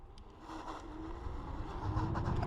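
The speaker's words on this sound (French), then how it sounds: "maintenant, on va essayer en double moteur" A 6000W Boyueda S3-11 electric scooter accelerates on its dual motors, giving a rising electric whine over rumbling road and wind noise that grows louder toward the end.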